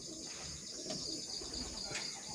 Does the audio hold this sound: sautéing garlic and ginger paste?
no